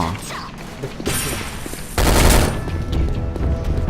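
Gunfire in the online shooter Sudden Attack: rapid automatic bursts crackle throughout, growing louder and denser after the midpoint into sustained heavy fire, with a voice faintly underneath.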